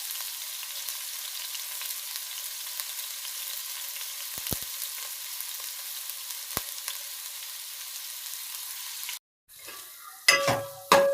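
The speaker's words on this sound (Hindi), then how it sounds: "चिकन हमारा मज़ेदार फ्राई हो चुका है।" Cubed chicken fries in a pan with a steady, even hiss of sizzling oil and a few faint clicks, then the frying cuts off and clattering handling noises follow near the end.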